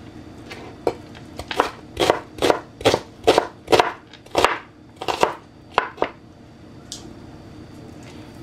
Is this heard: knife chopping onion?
yes